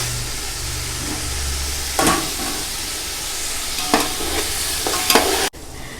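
Chicken frying in oil for gongura chicken biryani keeps up a loud, close sizzle, broken by a few sharp scraping strokes of a spoon as it is stirred, with no voices.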